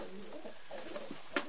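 Pigeons coo softly in a breeding loft, low throaty calls rising and falling close by, ending with a brief sharper rustle or flutter.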